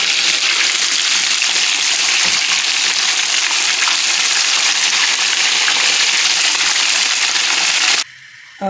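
Fish for Lahori fish fry sizzles in oil on full heat, a loud, dense and steady crackling hiss close by that keeps on without a break before cutting off abruptly near the end.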